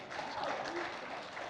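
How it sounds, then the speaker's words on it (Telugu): Audience applause at a Telugu movie pre-release event for Amaravathiki Aahwanam: a dense, steady wash of many hands clapping, fairly loud and sustained throughout, with a few voices mixed in. "కొట్టండి చప్పట్లు"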